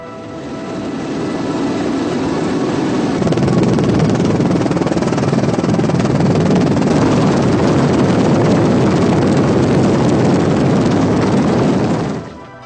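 A gendarmerie helicopter engine roars steadily for about twelve seconds, a loud, close, unbroken drone that swells in at the start and cuts away at the end, with no talking.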